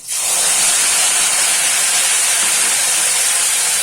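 Tomato paste hits hot oil tempered with cumin and asafoetida for chhanar dalna, setting off a sudden, loud, continuous sizzle that holds steady throughout.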